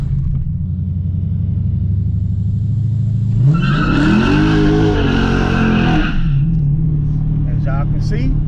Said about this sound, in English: we're gonna actually set it up for launch control to see how it does